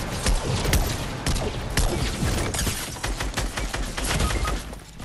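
Fortnite gunshots crack in fast, dense volleys, loud and close, layered with mechanical clatter and rapid repeated fire throughout the short burst.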